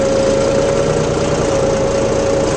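A John Deere tractor engine runs steadily nearby, a loud continuous drone with a strong steady hum and rough mechanical texture, no change in speed across the short stretch.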